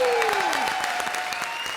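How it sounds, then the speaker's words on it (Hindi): Studio audience at a Hindi TV comedy show applauding a guest, loud sustained clapping with a gliding musical tone sweeping underneath. "जॉन के लिए एक बार जोरदार तालियां"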